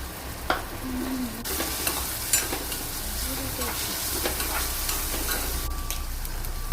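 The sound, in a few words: sautéing finely chopped onion for prawn curry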